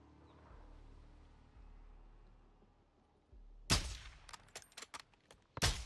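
Rifle shots ring out in Call of Duty Modern Warfare 2, a series of sharp, loud cracks in quick irregular succession that follow several seconds of quiet ambient hum.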